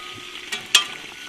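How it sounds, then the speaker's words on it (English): A lamb roast sizzling inside a camp oven over an open campfire in the bush, a soft steady crackle with two brief sharper pops, fairly quiet and close, no talking. "my little roast has been cooked for some time now, and I can hear it sizzling away quite merrily there"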